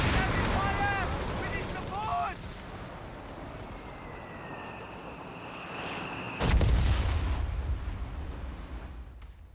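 Cannone artillery fire in Company of Heroes 3: one heavy, booming shot lands near the end over a background of battle noise and whistling, with someone talking earlier in the clip.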